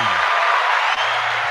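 Brief burst of audience applause at a live event, a dense wash of clapping that holds steady for a moment and then thins out.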